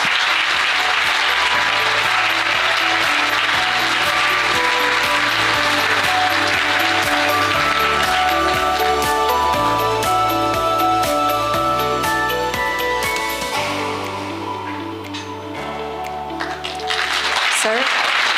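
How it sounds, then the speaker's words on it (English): Sustained audience applause for the Honorable Mr. John Lee at the Asia Insurance Forum 2023, a dense, steady wash of clapping from a large hall over background music, thinning toward the end. "Ladies and gentlemen, please give another big round of applause to the Honorable Mr."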